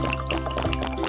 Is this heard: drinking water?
yes